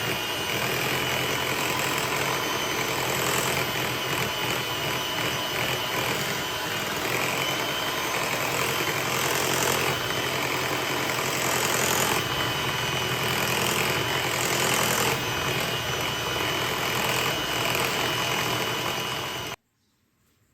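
A kitchen blender runs at a higher speed, mashing ingredients for Liberian sweet rice bread. A steady, droning motor whir continues for about twenty seconds without a break, then cuts off abruptly.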